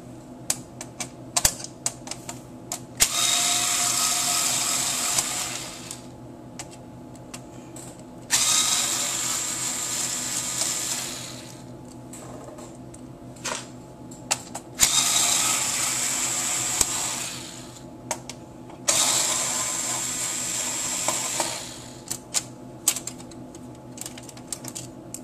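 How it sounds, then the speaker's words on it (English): Screws being driven out of the heat sinks on a PS3 motherboard during a yellow-light-of-death repair; four separate whirring bursts of a powered screwdriver, each a few seconds long, with small clicks and handling taps in the pauses between them. "Next, go ahead and remove the 4 screws holding the heat sinks on"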